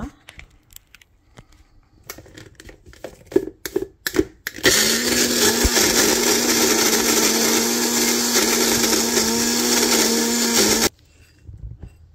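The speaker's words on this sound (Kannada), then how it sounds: "ಆಲ್ಮಂಡ್ಸ್ ಹಾಕಿ ಪೌಡರ್ ಮಾಡ್ತಾಯಿದ್ದೀನಿ ಈಗ" Almonds are dropped into a mixer grinder with clicks and rattles, then the motor roars loudly and steadily for about six seconds while grinding them to powder before cutting off abruptly.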